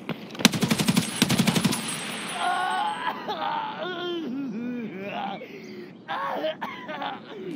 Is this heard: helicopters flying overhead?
no